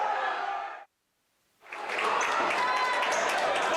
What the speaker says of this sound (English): So some applause here for the Viroqua Blackhawks coming out here out of this timeout from Riverdale